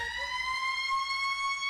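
A person screams in imitation of a siren, one long, steady, piercing wail that holds its pitch for nearly two seconds, close and fairly loud, then cuts off abruptly.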